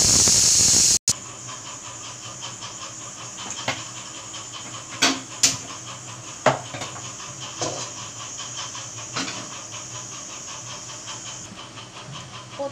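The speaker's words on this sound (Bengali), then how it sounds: "প্রথমে এই মটরটাকে অল্প একটু হলুদ দিয়ে প্রেসারে ৬-৭টা সিটি মেরে নেব।" A pressure cooker of peas with a little turmeric, hissing steadily with a sustained high whistle of escaping steam, close and loud, broken by occasional sharp clicks and rattles.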